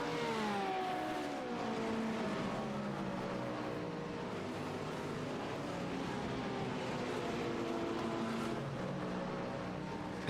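Engine of the Magic Arrow number 55 race car during the 12 Hours of Sebring endurance race, a continuous high, whining roar with shifting pitch as it goes past, accompanied by other engines at a steady volume.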